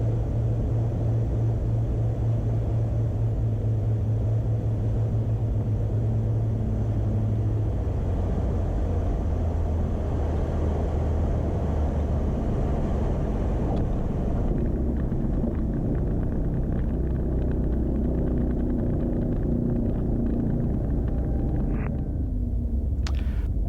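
A Beechcraft Baron airplane lands on runway 21 at Madison, heard from inside as a constant heavy engine and wind rumble that shifts in tone partway through as it touches down and rolls out, with no voices.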